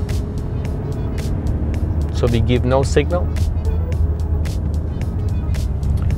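A car drives through a roundabout on a driving test route in Kastrup, Amager, with a steady close engine and road hum throughout while someone talks over it.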